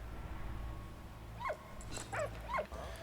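A dog in the video game Valiant Hearts: The Great War whimpers and yips in three short high, falling cries spaced about half a second apart, faint over a low background hum.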